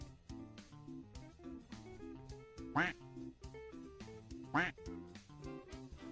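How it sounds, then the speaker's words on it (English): A duck quacks twice, loud raspy calls spaced under two seconds apart, over steady background music during a talk stream. "Why am I hearing two quacks?"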